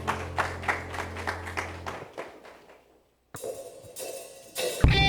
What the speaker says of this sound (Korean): 주님께 감사의 박수 올려드리겠습니다